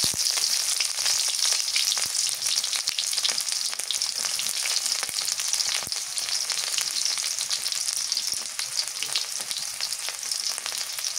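Onions frying in mustard oil in a pan, a steady, close, loud hiss and crackle of sizzling that runs unbroken throughout with no voices.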